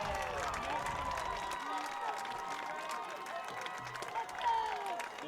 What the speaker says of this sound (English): This is the loudest that we've heard the crowd in some time